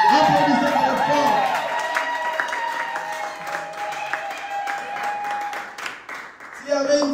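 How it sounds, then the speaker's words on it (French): A large audience claps and cheers loudly throughout, a dense steady roar of applause that swells again near the end, with a voice speaking over it. "Applaudissez très fort."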